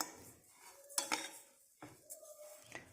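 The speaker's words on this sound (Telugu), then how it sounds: "ఒక కప్పు షుగర్ని వేసాను. ఇప్పుడు కలుపుకోవాలి." Sugar mixed into grated coconut in a pan for coconut barfi, heard as a few sharp metal spoon clinks and scrapes against the pan, close and fairly quiet, between short pauses.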